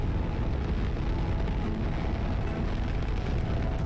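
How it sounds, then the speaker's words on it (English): A rocket explosion in Kerbal Space Program during a large rocket's ascent: a dense, continuous roaring rumble, loud and steady throughout, with broad low-heavy noise and no voices. "Explosion, indeed."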